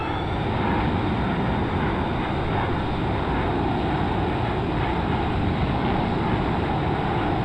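Jet engines of an F-15EX in flight throttle up, a loud continuous roar filling the cockpit steadily with no break and no voices.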